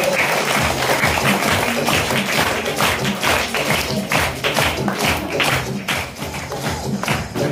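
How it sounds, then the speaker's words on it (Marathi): Sustained clapping from a crowd at a school event in Kotapur, where educational supplies are handed out and a teacher is being honoured. The applause is loud and dense, with no one speaking over it. "जोरदार टाळ्या वाजवायच्या."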